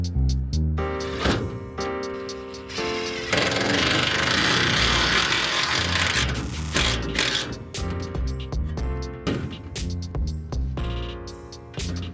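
A cordless power drill drives screws into wood before mowing, with repeated whirring bursts of motor and clutch rattle, a longer grinding run in the middle, and short stop-start pulses near the end, loud and close with no talk.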